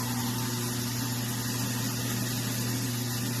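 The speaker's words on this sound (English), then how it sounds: "After you've plugged in your garbage disposal, we're going to go ahead and run some water and" A garbage disposal runs with water flowing through it, giving a steady, even motor hum with broad rushing noise that holds unchanged throughout, close and moderately loud.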